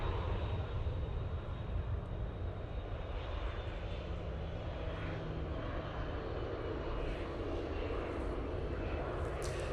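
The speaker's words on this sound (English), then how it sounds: "That was an absolute belting departure." An Etihad jet departing Manchester Airport gives a loud, steady, broadband engine roar that holds for the full stretch without talking over it.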